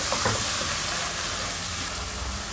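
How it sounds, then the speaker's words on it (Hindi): Onions frying in a pan for a traditional desi bitter gourd (karela) curry, a steady close sizzle and hiss running the whole time with no talk. "प्याज को तब तक फ्राई करना है जब तक इसका गोल्डन कलर नहीं आ जाएगा"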